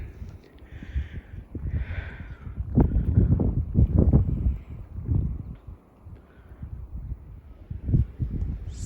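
Blizzard wind gusting across a snow-drifted yard on the Saskatchewan prairie in March, a rough roaring rush that swells and fades in waves, loud against the microphone, with no talk.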